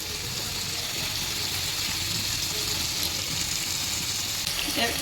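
Radish sautéing in a pan, a loud, steady, continuous sizzle and crackle of frying that fills the whole stretch with only faint stirring movement in the background.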